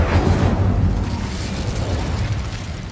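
A fire spell cast in Hogwarts Legacy bursts out as a loud, roaring whoosh, with a dense rumbling boom that holds steady for a few seconds.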